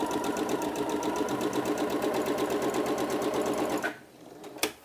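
A sewing machine stitches a blouse seam, running at a steady, rapid, loud rhythm for about four seconds before stopping, followed by a couple of small clicks.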